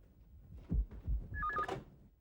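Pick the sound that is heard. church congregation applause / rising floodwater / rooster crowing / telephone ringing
telephone ringing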